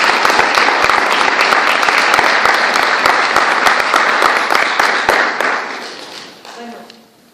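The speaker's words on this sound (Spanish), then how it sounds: "Un aplauso, por favor, para ella." A lecture audience applauds a visiting scholar at a conference, with dense, loud clapping that holds steady for about five seconds before thinning out and fading into the quiet room.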